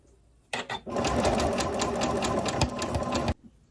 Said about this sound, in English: we're going to sew the entire sides together from the cuff of the arm through the armpit down to the side, all in one big giant stitch